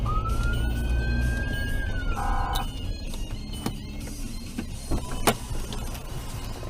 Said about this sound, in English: Okay, siren.